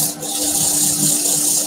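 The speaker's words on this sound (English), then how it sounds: "Quickly sand up" Close, rhythmic scratchy rubbing of sandpaper against wood by hand in a woodworking workshop, steady and fairly loud, with the low hum of dust extraction underneath.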